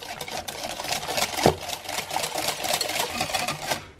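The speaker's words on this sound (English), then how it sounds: "we'll just whisk together to make a waffle batter" Coconut flour and coconut milk whisked into waffle batter in a bowl, making a fast, steady rhythmic clatter and scraping close by, with no talk.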